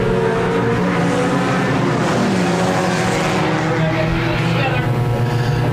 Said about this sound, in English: The 13B, David Bates, and the 33TC, Tim Cass make up heat race number 2 as we go green.